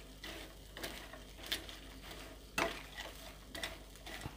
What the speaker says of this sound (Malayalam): നമുക്ക് ഇളക്കി കൊടുക്കാം.